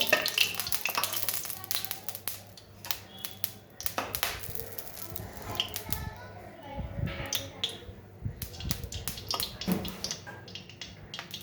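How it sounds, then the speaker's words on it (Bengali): Cauliflower pieces frying in a wok, bursts of crackling sizzle and scraping stirs that come and go irregularly, fairly close, with faint voices in the background. "ফুলকপিটা আমি ভেজে নেব।"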